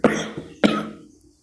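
Two sharp coughs from an adult man with a cold, about half a second apart, close and fairly loud, each trailing off briefly.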